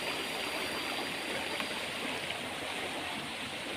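Water rushes steadily over rock slabs below a waterfall in Thailand, a dense continuous hiss and babble close by, unchanging throughout with no voices.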